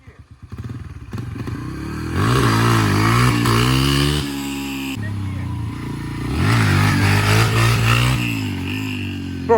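A dirt bike fitted with an oversized rear sprocket launches in fourth gear, its engine revving up loud and close in two rising pulls, with some clatter at the start.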